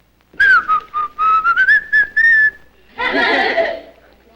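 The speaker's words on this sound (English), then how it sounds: "Now, what fool whistled?" Loud, close whistling, a short run of clear piping notes rising slightly in pitch, followed by a burst of noisy, rushing sound.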